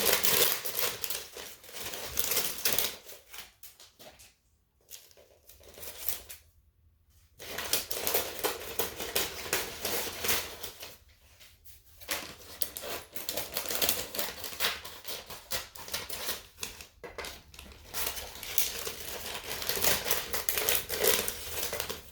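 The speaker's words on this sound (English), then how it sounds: "you're going to have to trim your tissue paper down" Tissue paper being trimmed for a giant DIY lollipop gives dense, close crinkling and snipping. The rustling runs continuously and breaks off into brief quiet pauses several times.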